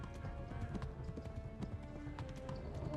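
Rhythmic hoofbeats of a galloping horse in the medieval video game Kingdom Come: Deliverance, steady clip-clop throughout over soft background game ambience.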